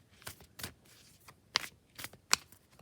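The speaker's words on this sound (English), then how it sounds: "we are going to shuffle our thought of the day from the Healing the Mind and Spirit cards" Healing the Mind and Spirit oracle cards are shuffled by hand in soft, close riffling bursts and sharp flicks, several irregular strokes at low volume with no talking.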